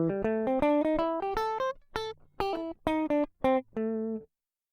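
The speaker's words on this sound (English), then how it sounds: "there is a blues scale. Completely separate thing. Kind of sounds like this." A blues scale played note by note on a synthesized or electronic-sounding instrument, a steady run of clear tones with a few pauses near the end, played alone.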